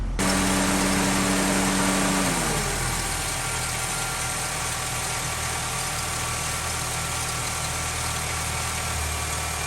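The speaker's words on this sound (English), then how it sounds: "So as the engine warms up, the thermostat will remain closed" A 2006-2011 Honda Civic engine idles during warm-up, loud and close, with a steady mechanical hum and a higher tone that drops in pitch after about two seconds, then continues evenly with no talk.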